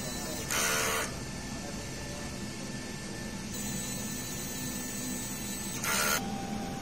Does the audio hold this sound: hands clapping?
no